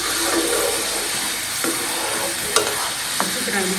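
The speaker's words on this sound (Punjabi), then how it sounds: "ਲਸਣ ਔਇਲ ਅੱਛੀ ਤਰ੍ਹਾਂ ਫਰਾਈ ਕਰਾਂਗੇ, ਇਹਦਾ ਤੁੜਕਾ ਬਣਾ ਲਾਂਗੇ" Garlic frying in oil for a tadka gives a steady, loud hiss at close range, broken by a few sharp scraping stirs.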